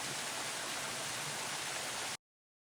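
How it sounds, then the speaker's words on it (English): Waterfall pouring into a pool beside the Appalachian Trail, a steady broadband rush of falling water that holds even and fairly close for about two seconds before cutting off, with no voices. "I'm glad I got the waterfall in this beautiful, beautiful, beautiful pool"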